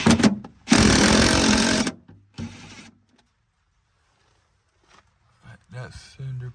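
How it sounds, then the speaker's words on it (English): A power tool bolts up body panels on a Porsche 944, giving a loud buzzing burst of about a second, then a shorter second run, followed by quiet and someone talking. "So right now I'm just bolting everything up."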